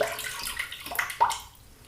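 Water splashes briefly into a bowl of shaving soap lather, with a short running pour and a couple of wet bursts before fading out, close and fairly quiet, with no talking.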